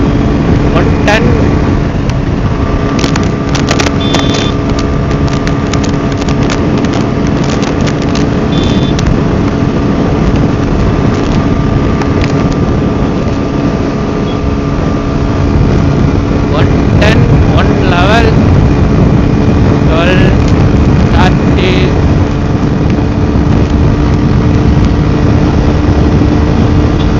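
A TVS Apache RTR 160 4V motorcycle cruises in fifth gear, its steady engine drone loud and continuous alongside heavy wind rush, with someone talking over it throughout.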